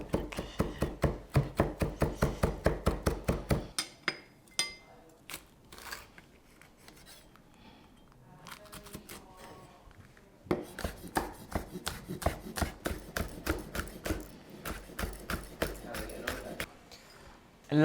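A knife finely chops three kinds of chillies on a board in fast, crisp, evenly spaced strokes, two long close-up runs of chopping separated by a quieter stretch of scattered taps.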